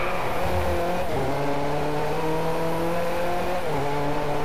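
Engine of a W Motors Lykan HyperSport in the Driveclub racing game, a steady loud drone with pitch sweeping down and back up through corners, faint tire squeal, no talk.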